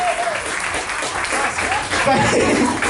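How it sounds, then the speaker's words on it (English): A seated audience at a hypnosis talk and presentation in Toronto gives a dense, continuous round of applause, with a voice speaking over the clapping throughout. "More of a round of applause for Jesse."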